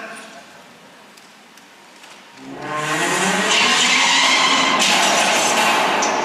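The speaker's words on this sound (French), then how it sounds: "des accidents de voiture" Car skidding in a car-crash film excerpt: quiet for two seconds, then a loud sustained tire screech and rushing noise that holds steady to the end.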